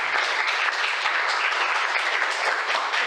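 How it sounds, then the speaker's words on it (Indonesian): A group of classmates claps steadily for a friend, a continuous even patter of many hands at moderate volume throughout. "Tepuk tangan dulu dong buat temanmu."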